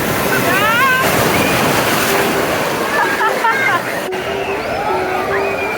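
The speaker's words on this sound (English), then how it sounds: "you can let the waves crash on you and you don't have to be in the water" Waves crash and wash steadily in the Typhoon Lagoon wave pool at Disney, a broad continuous roar close by with wind buffeting the microphone and people's voices chattering faintly over it.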